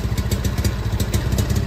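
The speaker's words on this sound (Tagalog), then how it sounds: "Kahit nakadiin ka na sa throttle, nakasagad ka na, palyado pa rin, halos ayaw niyang ibigay yung tamang RPM." A Honda Beat scooter engine misfires under full throttle, running near and loud as an uneven, sputtering putter with irregular thumps that never settles into a smooth rev.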